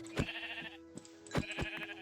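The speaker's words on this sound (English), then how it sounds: "once I deal with these sheep" Sheep bleating in the Minecraft video game, a few short game-sound bleats overlapping one another over a steady background tone, fairly quiet.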